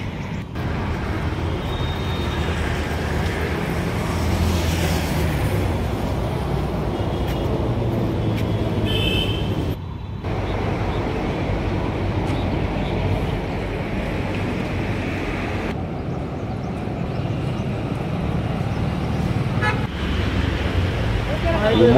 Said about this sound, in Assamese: গাড়ী পূৰা ভিৰ লাগি গ'ল